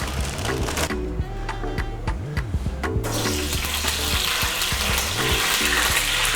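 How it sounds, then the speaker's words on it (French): Frozen yam pieces sizzle and crackle as they fry gently in oil, a steady close hiss with scattered pops and a background hum that grows louder partway through. "ça se dégivre et ça cuit dans l'huile tranquillement"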